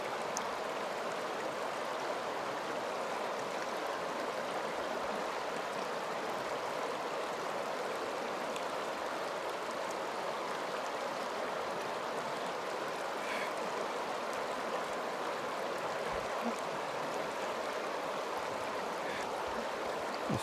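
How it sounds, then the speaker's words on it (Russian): A fast-flowing river current rushes in a steady, even wash of water noise throughout, moderately distant and fairly quiet, with no voices over it. "Течение быстрое в реке."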